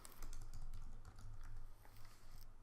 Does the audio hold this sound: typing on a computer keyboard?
yes